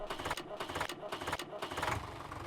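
A tractor engine in Farming Simulator 17 cranks and tries to start, a rough rhythmic chugging that surges in repeated bursts, loud and close, with someone talking over it.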